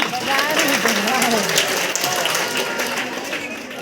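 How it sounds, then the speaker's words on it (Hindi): Seated audience at a talk or gathering claps together, a dense sustained wash of applause at moderate loudness with a voice speaking over it. "सब लोग तालियां बजाए"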